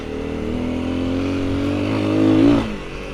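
A KTM motorcycle rides past on a dirt trail, its engine a steady drone that swells and peaks near the end before dropping off as it moves away.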